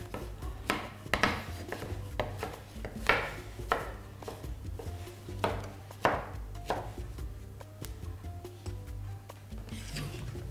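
A knife cutting fish flesh on a board, a series of faint irregular thuds and scraping strokes spread over several seconds against a low steady background hum.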